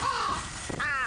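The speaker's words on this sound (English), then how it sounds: "Wait, what are these crows doing here?" Crows cawing in the video game Thirty Flights of Loving: a couple of short, harsh caws close together, heard alone without speech.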